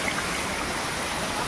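Panvel waterfall rushing with a steady, close, full broadband roar of falling and flowing water, unbroken and without speech.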